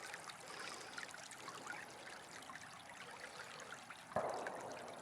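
A small cold creek trickles and gurgles steadily in quiet surroundings, soft and close, with a brief knock or splash near the end.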